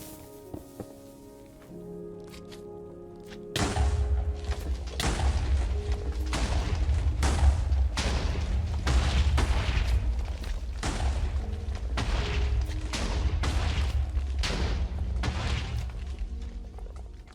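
A long chain of TNT blocks lit with a fire charge in Minecraft goes off as a rapid string of deep, booming explosions, one after another for over ten seconds, loud and dense with no talk over them.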